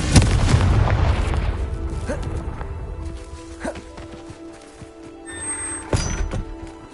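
A Confringo fire spell explodes in Hogwarts Legacy on PS5, a loud, close blast at the start that rolls off into a decaying rumble, followed by a few scattered thuds.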